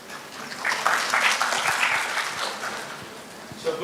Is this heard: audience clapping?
yes